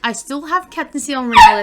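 A single short dog bark cuts in close by near the end, breaking over a man's steady speech.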